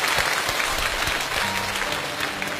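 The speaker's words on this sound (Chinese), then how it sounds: "现在我不想点评，我只想把掌声送给你。" An audience gives a dense, loud round of applause following a dance performance on a stage talent show, sustained clapping throughout.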